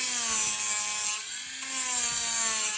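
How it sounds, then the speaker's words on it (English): A Dremel rotary tool grinds through a shoe midsole and shank, a steady high whining rub that dips briefly midway as the cut eases, then resumes close and alone. "Turn the Dremel. So I'm not cutting through this all at once."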